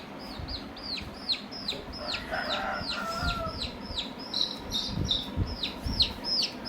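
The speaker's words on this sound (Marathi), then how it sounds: "ही आमची कोंबडी छोटी" A small hen clucks in a quick, regular series of short calls, fairly close, with faint background noise and a brief scratchy rustle in the middle.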